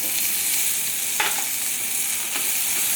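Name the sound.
onion-tomato masala paste frying for pav bhaji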